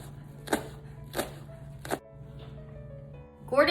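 Green onions chopped with a knife on a board, three sharp separate strikes spaced about half a second apart, followed by a brief clatter, over a low steady hum with faint talk.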